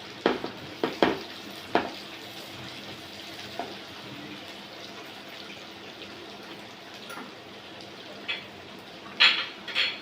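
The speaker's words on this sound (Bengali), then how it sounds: "এখন সবগুলো উপকরণ একসাথে খুব ভালো করে নেড়েচেড়ে মিশিয়ে নিচ্ছি" Vegetables for a vegetable omelette are stirred in a pan with a faint, low sizzle under a few sharp clacks and scrapes of the utensil, spaced irregularly and fairly quiet.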